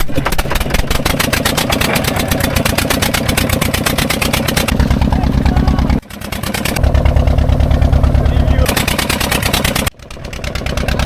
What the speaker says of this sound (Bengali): নৌকায় স্টার্ট দিচ্ছে